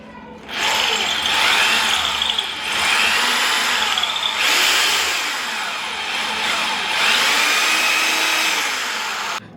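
A power drill boring a small hole for a screw indoors, whirring loudly and steadily in three long runs with brief dips between them, close by.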